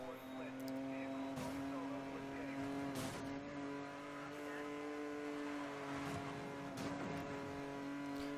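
A car in Need for Speed: Most Wanted races to escape police with a loud, steady engine drone. Its tone shifts slightly, with several sharp bursts of tire squeal or impact layered on top throughout.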